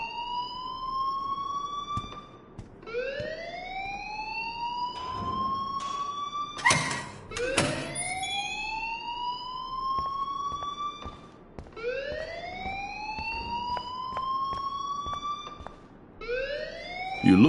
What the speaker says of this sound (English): The alarm tripped me out.